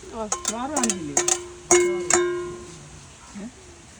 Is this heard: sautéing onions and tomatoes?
yes